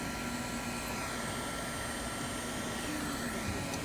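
A handheld heat tool blows a steady, even whoosh of hot air across the edges of a craft piece, a continuous moderate hiss with no talking.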